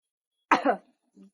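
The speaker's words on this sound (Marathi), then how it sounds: "आवाज बदलून खोकला येऊन राहिला." A woman coughs once in a sharp, harsh burst with a brief rougher tail, followed by a faint short throaty sound, close and otherwise quiet.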